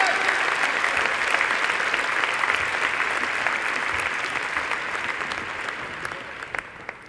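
Graduation audience at a Faculty of Engineering ceremony applauding its graduates, steady sustained clapping from a large hall crowd that gradually thins and fades toward the end.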